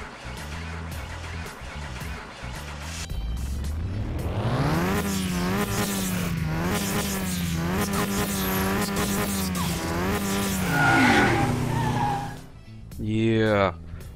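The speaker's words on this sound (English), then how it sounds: "You guys can hear the engine sound." A car engine in the video game Car Mechanic Simulator 2021 starts and revs steadily, droning loud and near with rising and falling pitch, then cuts off and revs again briefly.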